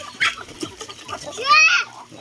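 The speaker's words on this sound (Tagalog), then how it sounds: "mga alaga naming ibon" Pet chickens on a rural Philippine farm cluck in short bursts, with a louder rising squawk near the end, close by and mixed with a few quiet background noises.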